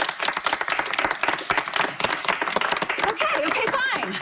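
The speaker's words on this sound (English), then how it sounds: "Please, let's vote with applause." Scattered audience applause for a song, uneven and choppy, with individual claps standing out and voices talking and laughing over it.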